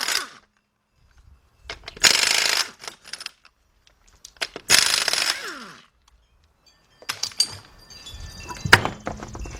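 Ratchet and wrench work on the 19mm lug nuts of a 2001-2005 Cadillac Deville: separated bursts of rapid clicking and metallic rattling with quiet gaps between, ending in a busier clatter of tool and metal sounds.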